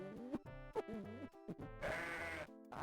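Sheep in a Barney video game bleating in a run of quick, wavering calls, loud and close, with game music and effects jingling alongside and no talk.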